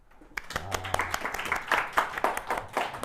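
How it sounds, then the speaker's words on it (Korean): Scattered hand clapping for a person builds up and grows uneven over a few seconds, with irregular claps at moderate volume and a brief tone early on. "자 우리 준영이 오빠한테 박수."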